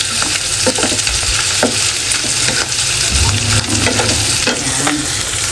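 Onions and oysters stir-fried together in a hot pan: a steady, close sizzle and frying hiss with repeated scrapes and clinks of stirring, and no voices.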